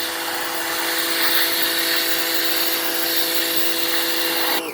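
A WHOLESUN 3000 PSI electric pressure washer sprays with a loud, steady whine and rushing water hiss, holding constant near at hand before cutting off abruptly at the end.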